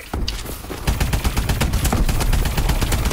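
Sustained automatic gunfire in a shooter video game, a dense rattling volley that starts after a brief pause and runs continuously, loud and close.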